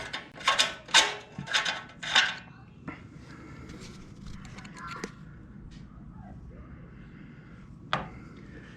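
Ratchet with a Harbor Freight extension working a tight bolt loose while installing a DynoJet AutoTune on a 2019 Harley-Davidson Road Glide: a few quick, loud rasping clicks at the start, then quieter scattered metallic ticks and taps.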